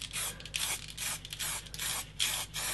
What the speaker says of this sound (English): Spray away from the edge. So seeing the cards that way, that's where the gap is, spray that way